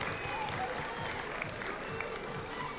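Audience clapping for the winner of a 1-2-Switch challenge at Japan Expo, a steady spread of applause from a crowd in a large hall with faint talk mixed in.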